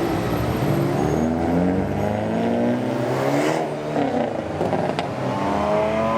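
Car engine of an Avante N or Kona N driving on a racing circuit, a steady loud drone with shifting pitch as it accelerates and revs, running continuously throughout with no talk.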